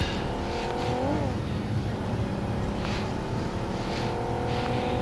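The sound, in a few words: car engine driving in video game PUBG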